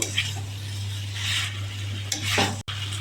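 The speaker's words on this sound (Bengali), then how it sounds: "এঁচোড় আলু মশলা একসাথে ভালো করে কষিয়ে নেব" Jackfruit, potatoes and spices sautéed together in a pan make a steady close sizzle with scraping stirring strokes and a low hum underneath, with a brief dropout near the end.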